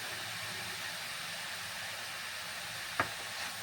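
Beetroot sizzles steadily in a hot pan for a beetroot palya, a constant soft hiss with one sharp clink of a utensil near the end.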